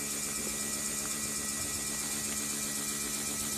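An electric fan spins in a close-up view, giving a steady, continuous whirring hum at low level with no talk.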